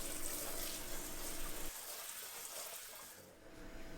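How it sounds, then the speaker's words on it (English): Cold tap water runs over cooked green beans in a colander, a steady gushing stream that suddenly softens partway through as the flow changes, then continues as quieter splashing. "I'm going to put them into a colander and then run them under a little bit of cold water to stop the cooking"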